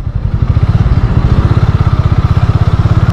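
A motorcycle on a highway ride from Belgaum toward Hosur thrums loud and close, its engine pulsing in a fast, even rhythm without letting up.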